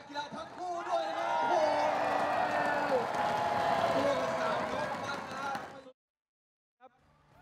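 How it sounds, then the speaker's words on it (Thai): Arena crowd at a Thai Fight Muay Thai event on Samui applauds and cheers both fighters, a dense loud roar of clapping and voices lasting about six seconds before cutting off abruptly. "ขอเสียงปรบมือดังๆให้กับนักกีฬาทั้งคู่ด้วยนะ"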